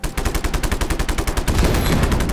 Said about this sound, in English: I'll use it now to shoot these tanks